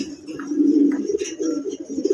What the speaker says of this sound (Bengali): এখানে যে আরেক পেয়ার কবুতর দেখাচ্ছি, হ্যাঁ এটা হচ্ছে রাসগোল্লা কবুতর